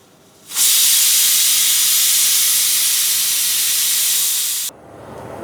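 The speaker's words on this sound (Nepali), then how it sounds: "अहिले हाम्रो सिटी लगाइसकेको छ," Pressure cooker letting off a single loud, sustained whistle of hissing steam lasting about four seconds while cooking a curry of potato, bamboo shoot and beans, starting and stopping abruptly, with no talk.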